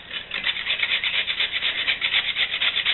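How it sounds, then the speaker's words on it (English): Skin being grated off with a kitchen grater while making vol-au-vent, a loud, close, rhythmic rasping of quick repeated scraping strokes with no talking. "We will use the grater."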